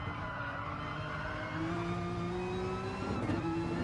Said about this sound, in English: That Porsche is a very nice car.